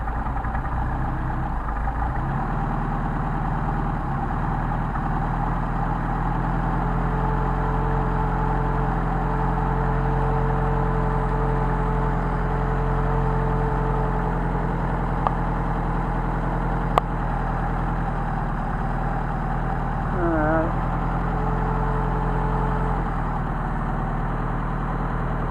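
A Mercedes 190SL engine with Solex carburetors idles steadily and evenly throughout, with a low, continuous hum and no talking over it.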